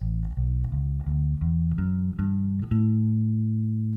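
A low bass guitar steps up through a Mixolydian scale, one sustained note after another at an even pace, ending on a longer held note.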